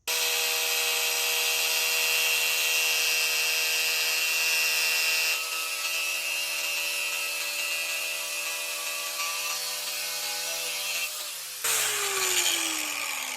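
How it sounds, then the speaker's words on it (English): A power grinder deburring a metal tractor pivot pin whines at a high, steady pitch for several seconds, its tone shifting slightly as it works, then winding down near the end. "This grinder works very good for sharpening lawnmower blades as well"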